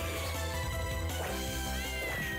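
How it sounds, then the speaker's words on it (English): A cat meows in the video game Castlevania: Order of Ecclesia, a couple of short wavering cries rising over loud, dense game music and effects. "There's a cat in here. I hear a cat."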